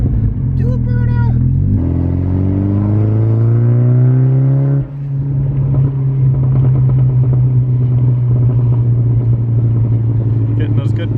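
A 1999 Saab 9-3 turbo with a crossflow intercooler and blow-off valve revs hard during a burnout, engine pitch climbing for several seconds, dropping, then holding a loud steady drone, with a voice speaking briefly near the start.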